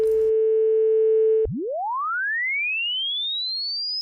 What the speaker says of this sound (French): les branches du diapason vibrent 440 fois à la seconde, ce qui correspond à la note La